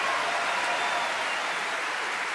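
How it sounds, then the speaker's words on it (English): Audience applause closing a stand-up comedy set at a comedy festival: loud, dense, sustained clapping from a sizeable crowd, steady from start to finish with no voice over it. "give yourself a nice round of applause"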